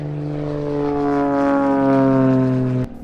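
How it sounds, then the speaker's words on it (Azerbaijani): Small gasoline-powered propeller airplane with a loud, steady droning engine and strong harmonic whine, slightly rising in pitch before cutting off abruptly near the end. "Bu, benzinlə işləyən kiçik təyyarənin səsidir."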